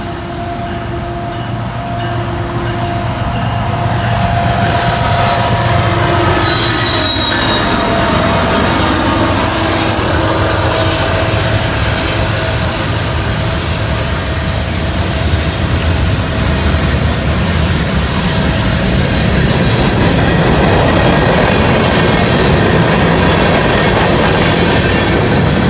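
A long Norfolk Southern freight train rolls past on a rainy day, a loud, steady roar with clattering wheels that holds for the whole stretch.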